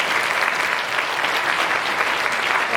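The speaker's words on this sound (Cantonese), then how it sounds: "我哋一齊祝福掌聲，唔該" Wedding guests clapping together, a steady dense round of applause filling the room at an even level throughout.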